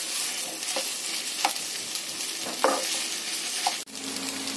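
Spice masala with turmeric and salt stirred in a pan, a steady sizzling hiss broken by a few soft scraping strokes, then a brief clunk, close and fairly quiet with no talk.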